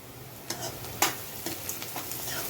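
Onions fry in a pan while fennel seeds and rock salt are stirred in, giving a quiet, steady sizzle broken by a few soft scraping ticks from the spoon, close by with no talk.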